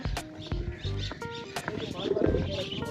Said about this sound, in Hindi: ये परिंदे चहचहा रहे हैं